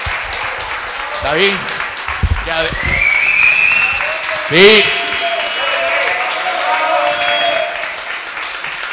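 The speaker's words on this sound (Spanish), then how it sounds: "un aplauso, por favor" An audience at a book presentation during an arcade convention applauds for the author, a steady wash of clapping running under a host's voice as he speaks briefly over it.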